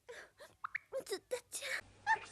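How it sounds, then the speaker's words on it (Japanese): An anime girl sneezes in a short, high-pitched burst, preceded by quick breathy catches and voiced sounds, close and clear in a quiet scene. "ちょっとくしゃみが出ただけだっちゃ。"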